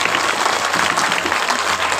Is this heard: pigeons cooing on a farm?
no